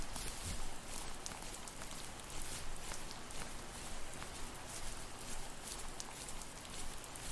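Steady rain hisses with no music behind it in the video game The First Tree, a dense even wash of drops falling for several seconds.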